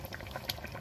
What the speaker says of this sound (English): I'm going to let this boil for a little while